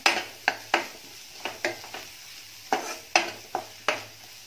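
White onion with turmeric sautéing in a pan, with a series of sharp spoon scrapes and clinks against the metal over a faint background sizzle, spaced irregularly about every half second.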